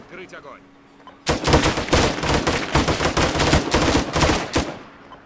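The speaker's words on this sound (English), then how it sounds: "We're going to open fire on these guys." ArmA 3 gunfire as a squad opens up on an approaching zombie horde: loud, dense bursts of rapid shots that start abruptly after a quiet moment and continue without pause to the end.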